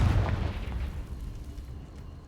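Confringo blasting spell going off in Hogwarts Legacy, a loud booming explosion with a deep rumbling burst at the start that slowly fades over about two seconds.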